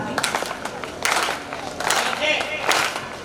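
Audience clapping in rhythm during a Hindi poetry recital at a large village fair kavi sammelan, bursts of crowd claps rising and falling over about three seconds, loud and close, with a voice over it.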